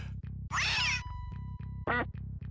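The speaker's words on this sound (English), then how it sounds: "That's the cat." A cat meowing in a video game demo, two clear synthetic meows over a steady, pulsing low game loop, with one sustained tone between them.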